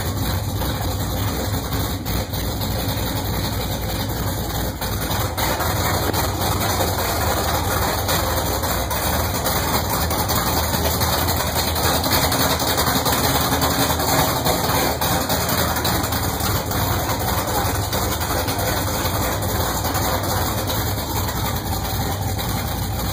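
A 1970 Pontiac Trans Am V8 idles steadily at about 1,000 RPM on its first start, a loud, constant low rumble with a whining tone above it and no voices.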